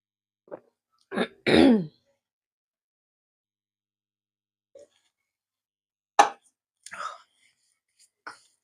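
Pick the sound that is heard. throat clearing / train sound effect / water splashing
throat clearing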